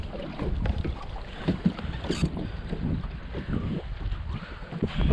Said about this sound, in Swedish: Det började blåsa på lite grann.